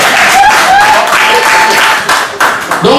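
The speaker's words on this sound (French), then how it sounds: "Applaudissez pour le député Kaïba Lambert." An audience claps and applauds for a politician at a public gathering, a loud, dense burst of clapping that carries on with a faint voice ringing over it, close and full.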